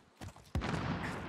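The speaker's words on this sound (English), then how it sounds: "Oh, there's big gunfire to our right." A sniper rifle fires in the Warzone video game, a single sharp crack followed by a booming rumble that fades out, preceded by a few softer thuds.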